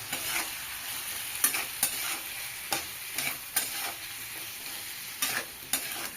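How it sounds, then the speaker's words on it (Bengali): Fried potatoes with grated onion and salt get stirred in a pan, a steady sizzle of hot oil broken by repeated scraping strokes of a spoon against the metal, close and loud. "একটু নাড়াচাড়া করে নেব।"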